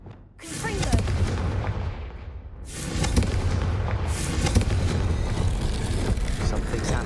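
A Confringo blasting spell exploding in the Hogwarts Legacy video game: two heavy, booming blasts with rumbling, crackling tails, loud and close, the second swelling into a sustained roar.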